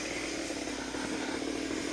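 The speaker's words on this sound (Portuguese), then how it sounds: "Agora é o uso da motosserra." A chainsaw runs steadily throughout during firefighter training, a continuous buzzing engine drone at moderate distance with no pauses.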